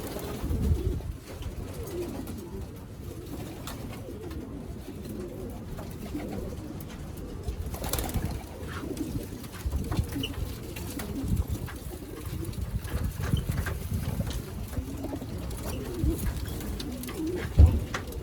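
Pigeons coo steadily in a loft of mixed fancy breeds, including Egyptian and Australian birds, the soft rolling calls overlapping throughout with a constant low murmur and no talk.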